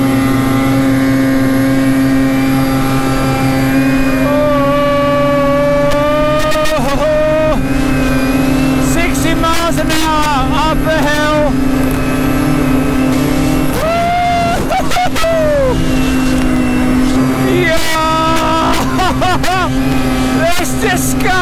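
Loud vehicle engine revving hard during a wheelie, its pitch rising and falling through repeated throttle surges, close and continuous throughout.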